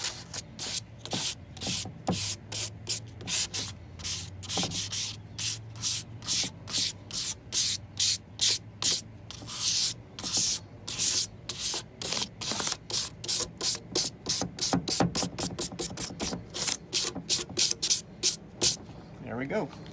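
Sandpaper rubbing a car headlight lens during restoration, rapid close back-and-forth strokes that start steady and speed into a quicker rhythm, with someone talking in places.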